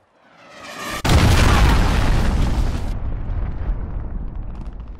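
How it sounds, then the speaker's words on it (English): A cruise missile detonates in Call of Duty: Modern Warfare with a sudden, loud, close blast, followed by a long, dense rumbling roar that slowly fades over several seconds, with no voices. "Enemy cruise missile incoming, take cover."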